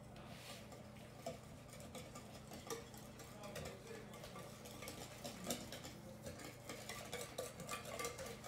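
A utensil stirs cream puff batter with dry ingredients in a bowl, producing quiet, continuous rhythmic scraping and soft ticking clinks against the dish, close and low in level.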